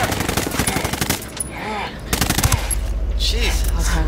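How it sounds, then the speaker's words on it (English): Bursts of rapid machine gun fire in Ghost Recon Wildlands Ghost War, loud and close, with short pauses between volleys and voices shouting in the background. "Under heavy fire."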